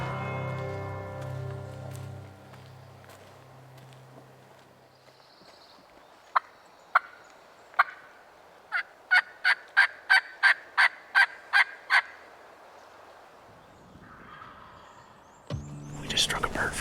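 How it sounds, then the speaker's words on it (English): Wild turkeys gobble out in spring woods during turkey season, a rapid string of about a dozen sharp, fairly distant gobbles. Low whispered talk comes before and after. "these birds are gobbling good right now"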